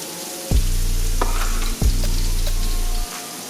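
Diced carrots and onions tossed into a hot pan for vegan fried rice: two bursts of loud, close sizzling, each starting with a sharp hit as the vegetables land, then steady frying hiss.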